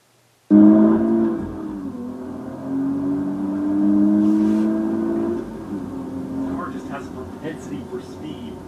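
A 2023 Nissan Z engine blips during a rev-matched downshift, a loud sustained engine drone rising and falling in pitch, heard close from inside the cabin.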